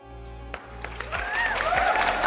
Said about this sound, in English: Wow, you hear the crowd?